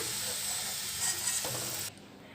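Sliced onions sizzle in hot oil for Hyderabadi biryani, a dense steady frying hiss close by that cuts off sharply near the end.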